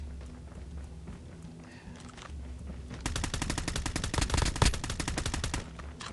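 Rapid automatic gunfire in Call of Duty Mobile battle royale, a dense burst of repeated shots over the last three seconds after quieter game ambience, with faint talk underneath.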